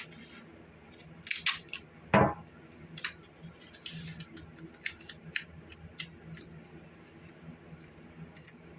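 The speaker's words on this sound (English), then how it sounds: "tape the edge of the screens up. Just like this. Tape all 4 edges up." Tape being pulled and pressed along the edges of screen printing screens, with a couple of sharp ripping bursts early on and then lighter crinkles and taps, close by with no talking.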